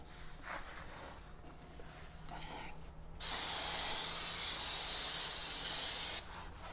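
Brake cleaner sprayed onto the brake rotor of an 80 Series Land Cruiser during a steering knuckle rebuild: one loud, steady hiss of about three seconds that breaks in after a quiet stretch and then stops abruptly.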